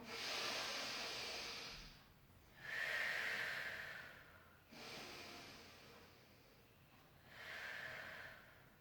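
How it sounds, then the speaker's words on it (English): Slow, deliberate breathing during a barre stretch, two full cycles of airy inhales and exhales, close and soft, each breath swelling and fading with brief pauses between. "Just take a few breaths in and out."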